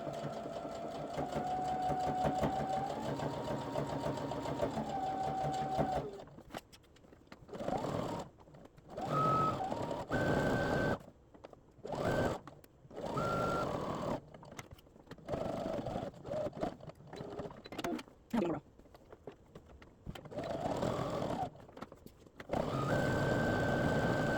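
A sewing machine back stitches a tank top seam, running in bursts of rapid mechanical whirring that start and stop repeatedly, with short pauses between runs and a longer continuous run at the start.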